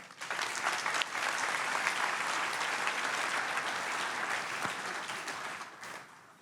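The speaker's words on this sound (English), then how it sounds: "please a round of applause for our sponsors tonight" Steady applause from a sizable audience at a sports awards event, sustained clapping at an even level throughout before tapering slightly at the end.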